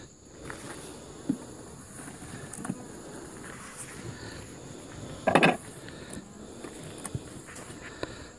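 Honeybees buzz steadily at close range while working over new and old honeycomb outdoors, a low insect drone with a brief louder rustle near the middle.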